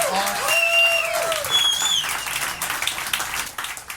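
An audience claps and cheers at moderate volume, with whistles rising above the applause before it fades out.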